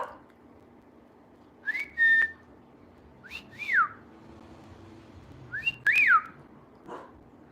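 A person whistles three short separate phrases, each a quick rising-then-falling call, moderately close in a quiet outdoor setting with a faint low hum underneath.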